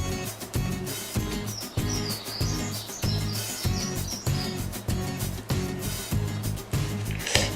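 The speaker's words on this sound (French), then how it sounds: "C'est normal que vous entendez des oiseaux, c'est qu'en fait j'ai la fenêtre ouverte." Birds chirp outside an open window, their high tweets faint and intermittent behind louder rhythmic thumping and clatter from a kitchen where fruit salad is being prepared.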